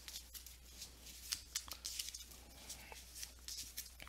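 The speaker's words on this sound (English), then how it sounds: "I take this, shuffle all of these cards back together" Board game cards from Scythe shuffled by hand in quick, soft riffling bursts, close and fairly quiet, with no talking over them.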